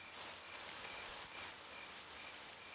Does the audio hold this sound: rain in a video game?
yes